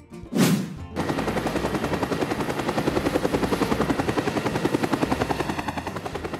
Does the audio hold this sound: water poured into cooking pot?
no